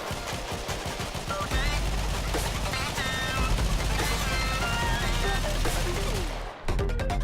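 Mesa's Regulators dual pistols in Warframe spray continuous rapid automatic fire, a dense unbroken stream of loud shots with bassy thumps underneath, stopping abruptly near the end.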